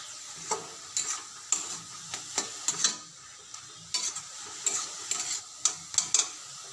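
Cauliflower sautéing in a frying pan while being stirred, with a soft sizzle underneath and a steady series of close scraping and clinking stirs repeating every half second or so, no talking.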